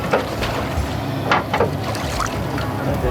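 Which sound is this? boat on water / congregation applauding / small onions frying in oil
boat on water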